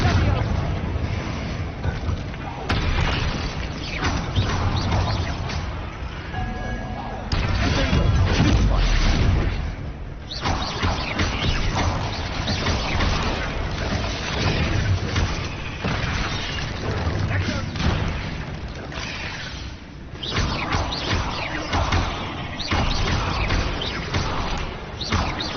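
Blasts from the Confringo fire spell in a Harry Potter video game, heavy booming explosions and crashes that come several times within loud, dense game audio, with a voice speaking at moments.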